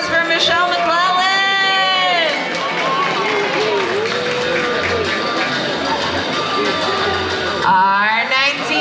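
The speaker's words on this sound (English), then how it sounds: "Let's give a big round of applause for Michelle McClellan." Applause and cheering rise from an audience at a pin-up contest, with bright whoops and calls layered over steady crowd clapping throughout, surging again near the end.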